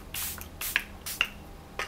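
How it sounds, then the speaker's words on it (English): Setting spray misted onto a face in several short, close bursts, each a soft airy hiss, with quiet pauses between them. "Now it is time for setting spray."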